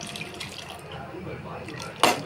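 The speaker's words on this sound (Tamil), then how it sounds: "இதில் கொஞ்சம் இந்த தண்ணியும் ஊற்றிருக்கேன்" Water is poured into a pot of simmering mutton gravy in a home kitchen. A low, steady background hum gives way to a short, bright splash of liquid near the end.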